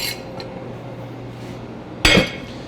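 A dish or pan clanks down into a kitchen sink with one sharp metallic clatter, preceded by faint clinks during a baking session.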